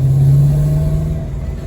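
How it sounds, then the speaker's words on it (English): A Dodge Daytona with a modern 6.4-litre Hemi V8 and five-speed manual drives along, its steady low engine drone close and loud inside the car, holding an even tone with a faint higher whine. "going to go for a spin in his Dodge Daytona"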